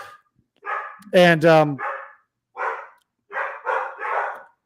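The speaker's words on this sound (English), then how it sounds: "I'm sorry about the dogs." Dogs bark indoors in a house, a few loud close barks followed by several quieter bursts, with a person briefly speaking.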